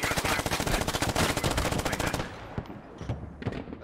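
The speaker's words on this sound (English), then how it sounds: "That's a 120mm mortar!" In the video game Squad, rapid gunfire bursts crackle loudly for about two seconds, then give way to fainter scattered shots and rumble.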